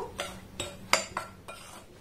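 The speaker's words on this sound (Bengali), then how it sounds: "এবার সমস্ত শুকনো উপকরণ একটু ভালোভাবে নাড়াচাড়া করে মিক্স করে নেব।" Spoon or whisk stirring dry flour mix with salt in a bowl for a flour-based snack, about five clinking scrapes against the bowl in a steady rhythm, close and quiet, no talk.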